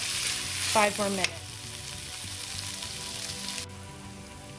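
Potatoes and tomatoes for aloo sabzi sauté in a pan with a steady, soft sizzle and brief stirring scrapes. A voice speaks briefly over the cooking.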